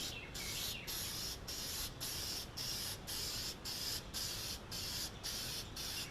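Spray gun misting toner lacquer onto a Zenith 5-S-29 radio cabinet in steady bursts of hissing spray, about ten short passes separated by brief pauses, close and continuous with no talking.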